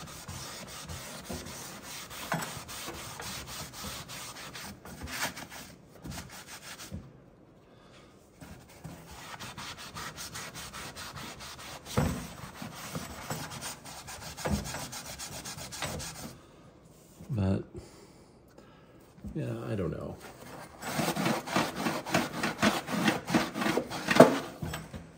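Steady scrubbing and rubbing inside a Ninja Foodi oven during cleaning, continuous rasping strokes with short pauses, growing busier toward the end, close and alone.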